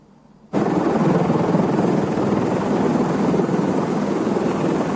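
An ambulance helicopter's rotor drone starts abruptly and holds steady, a loud continuous whirring roar with rhythmic chopping, no voices present.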